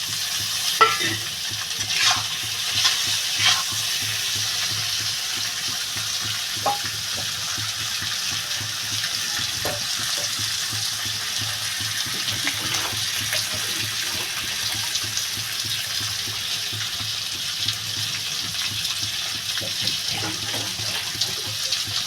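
Tilapia fish curry with taro (kochu) simmering in a pan as water is poured in, a steady wet rush with soft bubbling and occasional clinks, close and continuous throughout.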